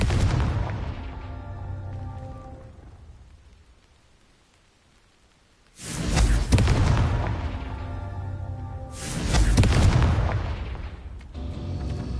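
A Confringo explosion spell in the Hogwarts Legacy game: a heavy rumbling blast that decays over a few seconds into near silence, followed by two more loud crackling booms that swell and linger.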